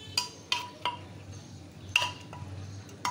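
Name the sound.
stirring mutton fat and dal in a pressure cooker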